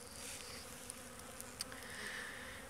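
Steady buzzing from many honey bees at a hive in winter, a continuous low drone with occasional brief closer passes, fairly quiet and unbroken.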